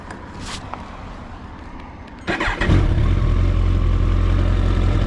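A Kawasaki ZX-14R (ZZR1400) sport motorcycle with a remapped engine cranks, fires up about halfway through and settles into a loud, steady, rumbling idle close by.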